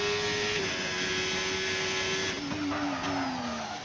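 Race car on a qualifying lap in Canada, with a loud, close engine whine holding high and then dropping in pitch through downshifts, and a brief tyre squeal near the end.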